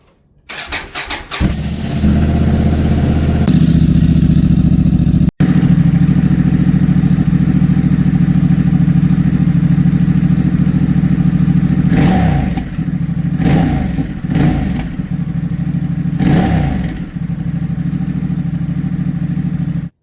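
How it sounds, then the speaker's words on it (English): A Honda Transalp 750 motorcycle with an aftermarket exhaust fires up from cold, catching after a few cranks and settling into a loud, steady idle with a few throttle blips near the end. "Now I'm going to do a little cold start for you guys."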